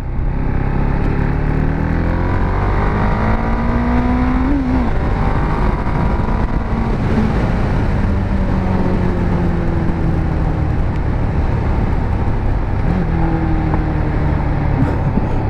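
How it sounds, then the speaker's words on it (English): A motorcycle engine with a stock exhaust revs loudly and steadily up close, its pitch rising and falling across several throttle blips, with a few sharp exhaust pops. "I got pops out of a stock exhaust."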